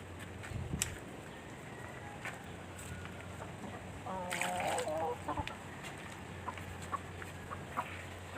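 Pet chickens cluck in a rural provincial yard, with a short burst of close, throaty clucks near the middle and a few scattered softer calls over a low outdoor background.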